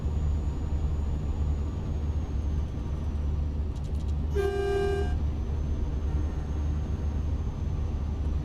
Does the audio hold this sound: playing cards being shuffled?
no